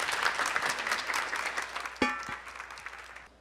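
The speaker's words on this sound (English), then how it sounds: "Can give them another round of applause" An audience applauds with fairly loud, dense clapping that gradually fades, followed by a brief sharp knock near the end as the applause dies down.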